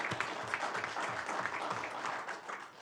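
Town council meeting attendees clap for a student in a brief, faint round of applause, the claps pattering steadily for a few seconds.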